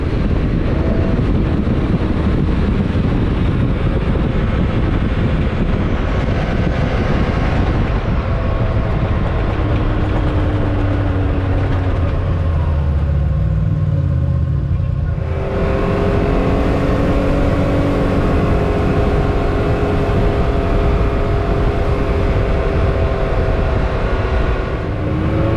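Can-Am X3 Max and Turbo S side-by-sides ride out near Higgins Lake, Michigan, with a loud, continuous engine drone and road roar that rises and shifts in pitch partway through. No one talks.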